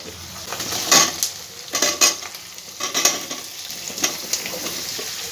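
Potatoes and pumpkin added to lightly fried onions sizzle in a pan, with rhythmic stirring strokes and the clink of a metal spatula against the pan, close and repeated every second or so.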